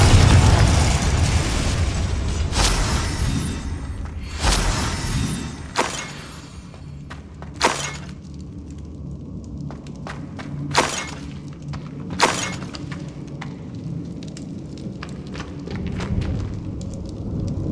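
Spell impacts in Hogwarts Legacy: repeated explosive bursts and glassy shattering crashes, several loud sharp hits over a dense rumbling game soundscape, spaced irregularly with fainter pops later.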